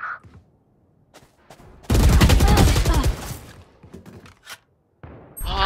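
Rapid automatic gunfire in the tactical shooter Valorant, a dense loud burst lasting about a second, then scattered footsteps and clicks with a few more isolated shots.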